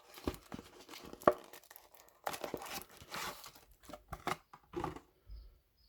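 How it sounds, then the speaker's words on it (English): A Yu-Gi-Oh card pack wrapper is ripped open up close, bursts of crisp tearing and crinkling foil coming in short uneven bouts separated by pauses. "then I'll just rip it"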